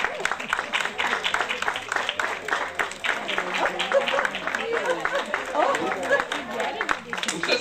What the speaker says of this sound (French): Et là on applaudit bien fort madame Quévrin.